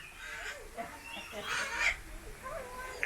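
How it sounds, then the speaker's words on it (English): Birds in an aviary at the Kuranda bird sanctuary, giving fowl-like clucks and calls at moderate distance amid faint background talk. "They're weird, nice little birds, aren't they?"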